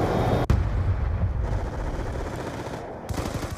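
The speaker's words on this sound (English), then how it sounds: "Friendly Hellstorm missile inbound." Hellstorm missile strike explosions in Call of Duty Black Ops 2 multiplayer, a sharp blast followed by rolling, crackling booms and dense rumbling impacts, loud and close, with a second burst near the end.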